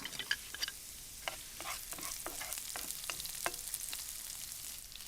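Chopped shallots frying in a pan, a steady close sizzle with scattered crackles and the clink of stirring, no talk.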